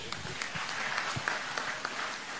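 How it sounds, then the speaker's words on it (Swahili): Mourners at a funeral gathering applaud together, a steady wash of clapping with scattered sharper claps, fairly close and filling the short moment without speech. "mpigie makofi Mungu kwanza"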